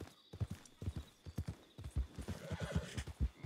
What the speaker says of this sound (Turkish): He, siyah Arap atı galiba.